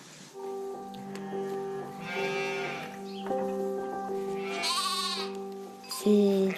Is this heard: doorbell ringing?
no